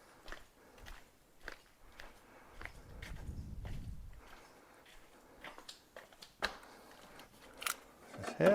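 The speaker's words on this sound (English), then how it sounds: "Get my cutters to cut that." Cutters snip through a plastic cable tie while working on a Porsche Boxster 986 window regulator, giving a few sharp clicks and snaps amid quiet handling and rustling, close by and fairly faint.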